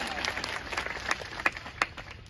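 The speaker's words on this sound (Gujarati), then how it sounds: "તાળીઓથી વધાવો" An outdoor farmers' rally crowd near the Junagadh collector's office claps to welcome a farmer leader, a brief scattered burst of applause with a few sharper claps standing out, moderately distant, with some voices mixed in.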